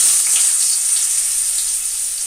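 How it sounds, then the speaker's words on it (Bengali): Long-cut potato slices frying in hot fish oil left from tilapia, a steady close hiss of sizzling oil throughout, with no talk. "এই মাছের তেলেই এবার আমি লম্বা লম্বা করে কেটে রাখা আলুগুলো দিয়ে দেব।"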